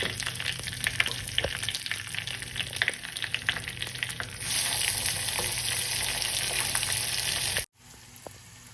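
Steady crackling sizzle of spices, curry leaves and asafoetida frying in hot oil for a tadka, growing louder and denser midway before abruptly cutting out, then resuming more softly as tomatoes go in.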